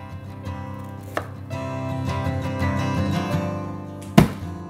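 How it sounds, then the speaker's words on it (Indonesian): Four centimetres of galangal are bruised with a pestle, a few dull thuds and knocks landing at intervals, one hard strike near the end, over low steady background hum. "Kemudian 4 cm lengkuas di memarkan."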